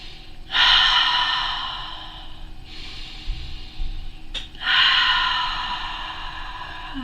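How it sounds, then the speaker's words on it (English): Slow, deep breathing during a relaxation ritual: three long airy exhales or inhales, close and clearly audible, separated by quieter pauses with a soft click, and no speech. "Take some deep breaths."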